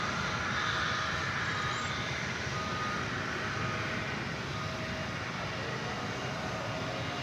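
A Boeing 757 airliner taxiing at DFW Airport, a steady broad engine roar and whine holding at a constant, fairly distant level, with no voices.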